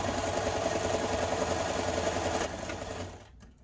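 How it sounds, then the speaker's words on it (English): A sewing machine runs steadily while stitching a quarter-inch seam on a fabric scrunchie, backstitching at the start and end; the close, even motor hum and needle chatter drop in level near the end and then stop. "I'm gonna stitch quarter of an inch seam allowance right here, making sure I backstitch at the beginning and the end"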